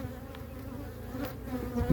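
Honeybees being moved from an old hive to a new one buzz steadily and densely at close range, a continuous swarm drone without talk.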